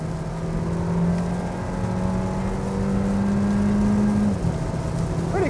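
A 2023 Kia Seltos with a 1.6-liter turbo engine accelerates, its engine note a steady, loud climbing whine that holds and rises across several seconds before easing off near the end, with no talk over it.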